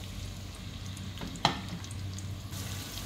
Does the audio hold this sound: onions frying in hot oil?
yes